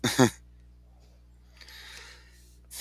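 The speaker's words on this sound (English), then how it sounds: "Cough, cough." A short, throaty cough or throat clear right at the start, close and fairly loud, followed by quiet room noise and a faint shuffle.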